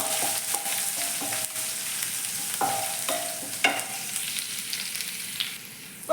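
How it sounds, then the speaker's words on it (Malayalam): Chopped ginger and garlic sauté in a hot pan for a small-onion prawn roast, a steady close sizzle broken by repeated scrapes and taps of a spoon stirring. "ഇഞ്ചി ഇട്ട് കൊടുത്തു അതുപോലെ തന്നെ വെളുത്തുള്ളി ചോപ്പ് ചെയ്തതും കൂടെ ഇട്ട് കൊടുക്കും അപ്പോൾ അതിന് നമുക്കതൊന്ന് ജസ്റ്റ് ഒന്ന് ഒന്ന് വാട്ടിയെടുക്കാം"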